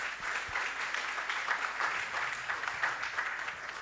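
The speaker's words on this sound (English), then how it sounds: "So big round of applause." Audience applause at a talk, a moderately faint, steady patter of many hands clapping in a room for a few seconds.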